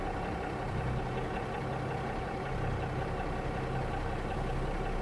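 An International Harvester winch truck's engine runs steadily in reverse, a continuous low rumbling idle heard up close with no change in pace and no talking.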